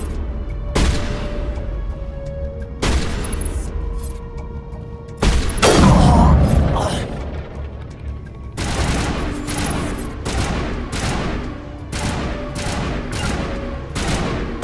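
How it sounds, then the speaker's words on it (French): Gunfire in Mass Effect Legendary Edition during a firefight on the Citadel, with repeated sharp shots, scattered single cracks and clustered bursts, plus a heavier booming impact near the middle, loud and close throughout. "D'abord je tire et après je pars."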